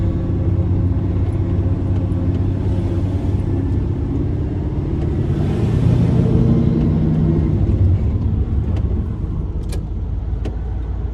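A truck drives along a city street at the end of a workday, its engine rumble and road noise loud and continuous from inside the cab, swelling slightly midway, with no talking.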